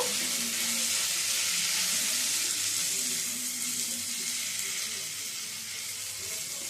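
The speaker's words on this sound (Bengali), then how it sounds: "এবারে দিয়ে দিচ্ছি ভেজে রাখা মাশরুমগুলো মাশরুমটা দিয়েও মিশিয়ে নেব" Previously fried mushrooms go into a pan with ginger-garlic paste and are mixed in, giving a steady close sizzle of frying with light stirring throughout, with no talk.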